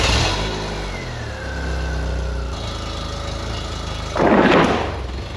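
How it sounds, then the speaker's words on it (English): A 1998 BMW Z3 engine cold-starts, cranking and catching, then settles into a steady, loud rumbling idle with a sharp burst of hissy noise near the end. "this is a cold startup on a 1998 BMW Z3"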